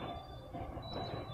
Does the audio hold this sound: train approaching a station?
yes